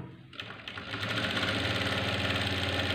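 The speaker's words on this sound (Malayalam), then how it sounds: "1/2 ഇഞ്ച് വെച്ചിട്ട് ഒന്ന് ഓടിച്ചൊന്ന് തയ്ച്ചെടുക്കുക." A sewing machine stitches a blouse neck with a half-inch seam, running continuously at steady speed with a close, even mechanical whirr and rapid needle clatter after a brief start-up.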